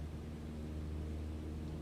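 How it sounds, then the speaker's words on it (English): An airplane takes off from a runway in Microsoft Flight Simulator 2020 with a steady, low engine drone and rushing noise, constant and moderately quiet, with no talk. "let's go ahead and take off from our runway here"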